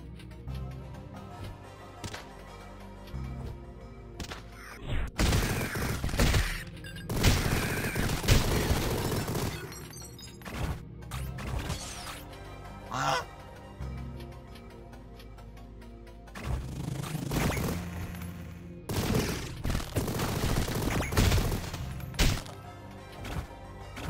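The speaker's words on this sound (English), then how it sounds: "Machine gun!" Bursts of machine gun fire in the cartoon shooter Mighty Goose come in loud clusters between stretches of upbeat game music, with some heavy thumps and impacts mixed in.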